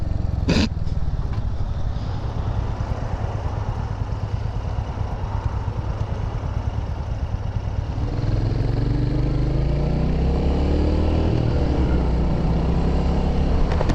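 A motorcycle engine on a test ride holds a steady, continuous hum, then rises in pitch as the throttle opens partway through. It sounds close and constant throughout, with no speech.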